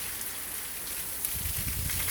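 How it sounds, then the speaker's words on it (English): Heavy rain pours down in the days after a severe flood, a steady, dense close hiss with louder patter building toward the end. "I just got to get out of the bloody rain some more."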